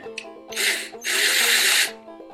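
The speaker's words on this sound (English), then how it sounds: "give it a little drill bit activity" A power drill spins a bit into a part of a 1973 Evinrude outboard carburetor, with two loud sustained whirring bursts, the second longer, under a steady background hum.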